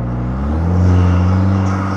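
A Vanderhall Venice engine accelerates with a loud, continuous whirring drone, its pitch climbing steadily as it revs, close and unbroken with no talk over it.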